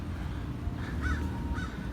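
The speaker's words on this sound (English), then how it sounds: "there's a crow on top of the bookstore. It's a crow. Oh, multiple crows." Crows perched on top of a bookstore give a few hoarse caws at a moderate distance over steady outdoor background noise.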